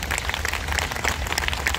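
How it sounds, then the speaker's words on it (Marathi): An audience claps for two singers at a centenary festival in Mumbai, scattered crackling hand claps over a low rumbling room hum, moderately loud and continuous for about two seconds with no speech. "ज्या दोन सुरेल गायिकांचा ऐकला त्या दोघींसाठी जोरदार टाळ्या वाजवा"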